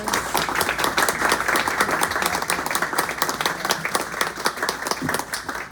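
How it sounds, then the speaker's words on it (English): A bookstore poetry reading audience breaks into dense, sustained applause for the poets, many hands clapping together at a steady level for several seconds. "let's give the poets another round of applause"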